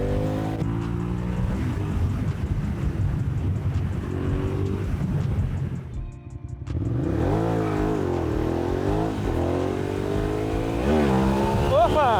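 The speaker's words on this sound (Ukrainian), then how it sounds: "Пішов у підйом мотоцикл на заднє колесо з другої передачі." A Ducati Diavel motorcycle engine revs hard and climbs in pitch during a second-gear wheelie, briefly cutting out before roaring back with rising, accelerating whines.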